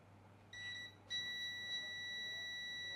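A multimeter beeps while probing a resistor on a mobile phone circuit board: a short faint tone, a brief gap, then a longer steady beep held to the end over low background hum.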